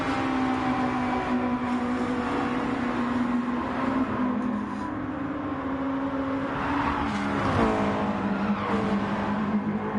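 Race cars lapping Willow Springs International Raceway in Gran Turismo Sport, a sustained loud engine drone with shifting pitch as cars pass, faint tire scrub mixed in.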